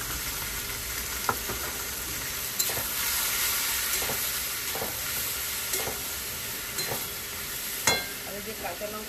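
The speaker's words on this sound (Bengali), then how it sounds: "আর এই যে কাঁচা লঙ্কাগুলো আমি খুন্তি দিয়ে কেটে কেটে দেবো।" Green chillies are cut with a spatula in a frying pan of vegetable curry, giving a continuous loud sizzle with periodic scraping and tapping strikes of the spatula against the pan, no speech.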